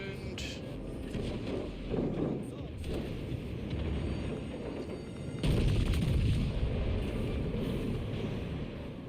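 Naval gunfire and explosions from World of Warships Legends play as rumbling booms and blasts under ongoing game voices, with a heavier burst about midway that stays loud to the end.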